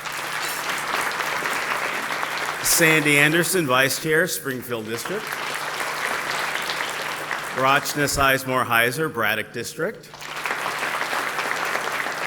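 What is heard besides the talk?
audience applause for school board members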